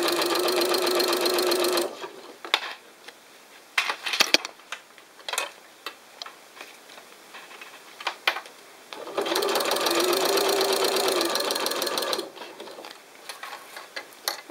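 Sewing machine stitching fabric around a gentle curve: two steady bursts of fast, even mechanical whirring, one at the start and one later, separated by quieter handling clicks and ticks.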